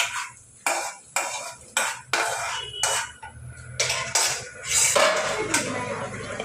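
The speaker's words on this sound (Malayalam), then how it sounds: "ശേഷം നല്ലോണം മിക്സ് ചെയ്ത് നല്ലോണം മിക്സ് ചെയ്യുക" Cashews and raisins stirred into semiya payasam, a spoon knocking and scraping against a metal pot in a series of distinct clinks and taps, close and clear.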